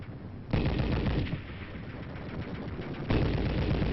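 Live ammunition fired during military training at an army recruit training centre on Jeju, heard as dense, continuous machine-gun bursts with loud onsets at the start and near the end, no talking.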